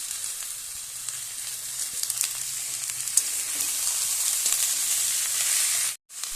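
Chopped onion, capsicum, chilli, ginger and garlic frying in a pan for chicken momo, a steady close sizzling hiss with faint crackles and stirring that cuts off abruptly near the end.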